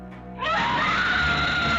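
Terrified women screaming inside a house in a horror radio drama, a sustained high-pitched shriek that swells in sharply after a brief low murmur and holds loud and close to the end.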